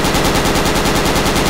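Sustained automatic machine gun fire in the military shooter Project Reality, a loud, dense stream of rapid shots with no pause and no talk.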